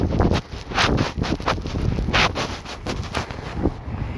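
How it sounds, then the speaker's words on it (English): Strong wind blows at an abandoned house, a loud rumbling gusting roar buffeting the microphone across the whole clip with sharp thumping bursts. "Trying my best to cover up this wind for y'all."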